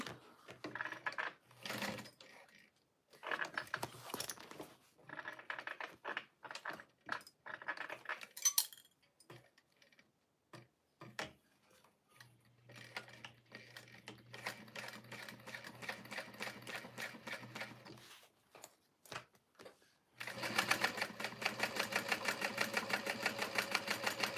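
A home sewing machine runs through black fabric with black thread in close, rapid bursts, broken by clicks and handling taps, and ends in a sustained run of stitching.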